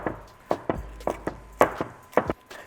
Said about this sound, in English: So I'm just chopping them up roughly